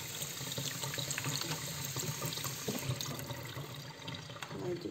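Water pours steadily from a tap into the base of an Italian stovetop coffee pot, a continuous soft splashing rush with a faint background hum.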